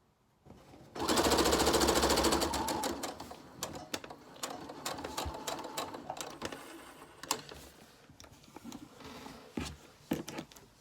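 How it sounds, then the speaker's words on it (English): A sewing machine stitches two fabric pieces together for a flower pin cushion, starting with a loud rapid whir, then running in shorter stop-start bursts of rattling stitches, close and without speech. "And sew them together, right sides facing."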